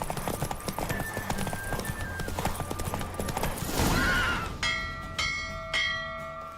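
Roach the horse gallops in a race in The Witcher 3, with steady rapid hoofbeats, a whinny and bright church-like bell tones ringing out near the end.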